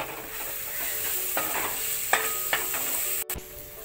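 Spice masala with chopped green chili sizzles in hot oil for a dal fry while a spoon stirs and scrapes the pan. The frying hiss is steady and close, broken by several distinct stirring scrapes and a brief clatter near the end.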